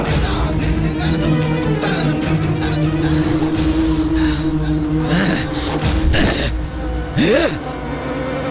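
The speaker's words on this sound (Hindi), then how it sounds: "फिर से ये अप्रिय भिनभिनाहट ध्वनि का श्रवण हुआ मुझे" An insect-like buzzing drone, used as a sound effect in a Hindi mythological TV series, hums through a busy, reverberant scene with scattered thumps and a rising whoosh near the end.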